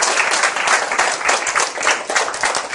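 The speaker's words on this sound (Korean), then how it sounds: "박수 한번 쳐주세요." A university design class gives a student a round of applause, a dense, steady burst of many hands clapping close by that fills the whole short moment.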